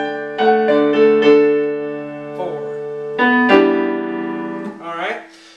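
Piano playing the opening of a song: sustained chords and melody notes in two phrases, close and clear, with brief breath-like noise near the end and no talking.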